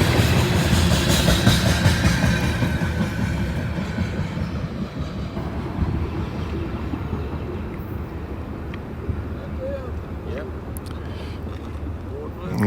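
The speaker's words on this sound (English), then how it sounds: "short and sweet, but it's still a train" A short freight train led by SD40 locomotives rumbles past loudly up close, then fades into a steady distant roll with faint wheel clatter, while people talk over it.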